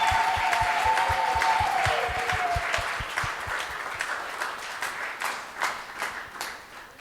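An Easter Sunday church congregation claps in a fast, steady rhythm during worship, with cheering and music in the room at first. The clapping then thins into looser, scattered applause.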